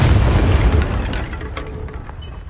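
A Confringo spell explosion in Hogwarts Legacy lets out a loud, deep boom that rumbles and gradually fades, with a few faint crackles trailing behind.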